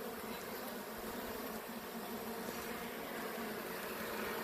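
Honey bees at a hive entrance fitted with an entrance reducer, worker bees and a large drone among them, making a steady dense buzzing hum that stays even throughout.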